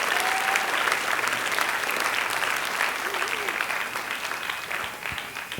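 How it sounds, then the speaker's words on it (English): A school audience gives writers a round of applause, a thick continuous patter of many hands in a large room that stays steady and then thins slightly toward the end, with no talk over it. "give him another round of applause"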